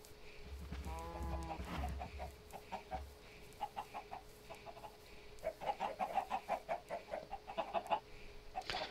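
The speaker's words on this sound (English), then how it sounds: "You're probably wondering why the fuck are there so many chickens there?" Chickens in Minecraft cluck repeatedly in short bursts, with one drawn-out call near the start followed by a dense run of clipped clucks toward the end, all at moderate loudness over low background game ambience.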